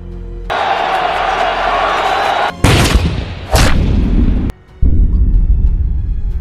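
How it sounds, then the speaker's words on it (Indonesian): Gunfire in the Wing Chun martial arts action film Ip Man as Ip Man is shot in the shoulder: loud sharp blasts and booming impacts cut in abrupt bursts over a noisy crowd background, with brief near-silent gaps between sections. "Ip Man terkena tembakan tepat di bagian bahu"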